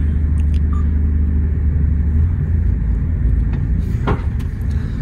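Truck engine idling before driving off at a petrol station in Saudi Arabia, a steady low rumble close by with a faint brief click near the end; no talk.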